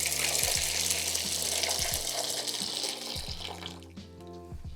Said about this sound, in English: So boiling hot water into the tub.